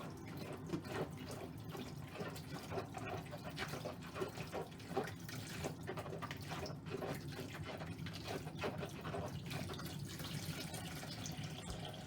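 A wet-felted bowl is washed in hot water at a sink, with a continuous close stream of running water and sloshing, squeezing sounds throughout.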